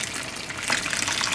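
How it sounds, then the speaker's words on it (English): Water pours steadily into a pan of ramen noodles for a little over a second, a close, continuous gushing splash with no talking. "I might just add in a little bit more water"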